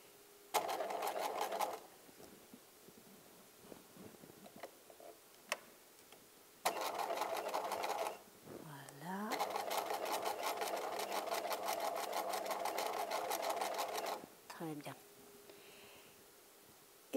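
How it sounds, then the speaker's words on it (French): A sewing machine stitches fabric along a zipper in two long, steady whirring runs, separated by pauses with softer handling sounds, while a voice talks quietly nearby. "Je pique l'aiguille dans le tissu."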